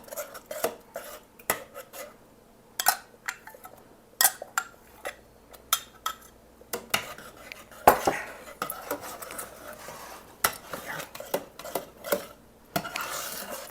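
Metal spoon stirring egg yolks into butterscotch pie pudding in a pot, scraping and clinking against the sides in an uneven run of knocks and clatters, close and moderately loud with no talk.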